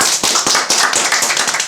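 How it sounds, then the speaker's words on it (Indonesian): Audience applause at a Honda Verza motorcycle riders' club gathering, a short burst of loud, quick claps from a small crowd, close and alone without talk. "tepuk tangan dong."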